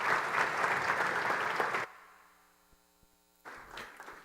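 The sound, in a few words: audience applause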